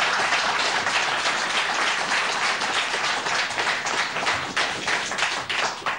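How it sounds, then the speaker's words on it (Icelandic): A studio audience at a 1989 Icelandic television quiz show claps steadily and densely, a loud unbroken wash of applause with no voices over it. "Gefum þeim gott klapp."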